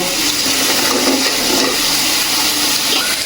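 Vegetables dropped into a hot cooking pan for a Bengali curry with greens and stalks, giving a loud, steady rushing sizzle that fills the whole stretch without any talk.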